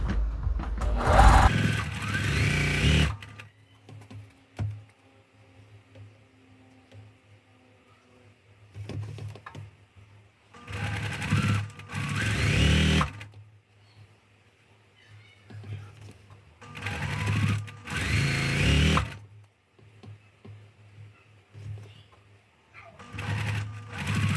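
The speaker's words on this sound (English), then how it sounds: "I'm going to line up the point of this square under my needle, and then I'm going to just follow that guideline on my machine." Sewing machine stitching a quilt square along a guideline, running in several short bursts separated by quiet pauses, close and clear.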